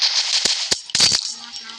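Weapons fire in the Kuboom first-person shooter game as a few sharp, short cracks and a quick double burst, loud and close over a hissy game background.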